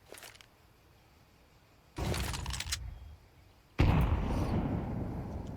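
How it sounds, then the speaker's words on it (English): Grenade blasts in a Counter-Strike match: a faint pop, then two heavy booming explosions with rumbling decay, the last the loudest and longest, with no talk over them. "Nade does some decent damage."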